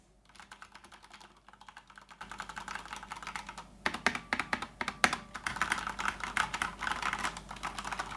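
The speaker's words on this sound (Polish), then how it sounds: "jesteśmy w stanie sprawdzić głośność tej klawiatury, co jest równie istotne" Brisk clicking of a Corsair K70 Pro RGB mechanical keyboard being typed on, quiet at first, then faster and louder with uneven keystroke bursts.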